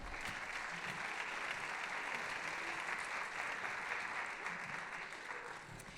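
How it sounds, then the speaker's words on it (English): Audience applause at a school district orchestra concert, a steady wash of clapping from a large crowd that holds evenly throughout, heard from a distance at moderate level. "Let's give them a round of applause"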